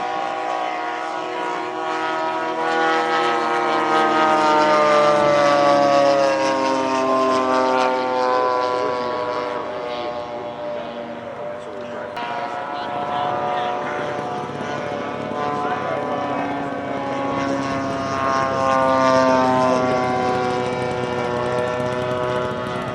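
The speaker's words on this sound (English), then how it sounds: "Looks like we've got 3 Japanese Zeros being flown." Three Japanese Zero warplanes flying at the Fox Valley Aero Club air show, their propeller engines droning loudly with a rising and falling pitch as they pass, under continuous commentary.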